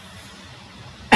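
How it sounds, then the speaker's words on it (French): A single short, loud cough bursts out near the end after about a second of quiet room tone, close to the microphone. "Ah ouais, je tousse."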